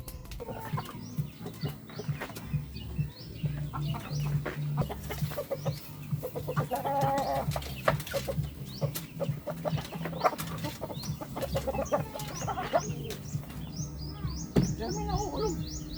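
Chickens in a poultry breeder house cluck and call continuously, several birds overlapping at moderate distance over a low steady hum, with scattered clicks and occasional louder squawks.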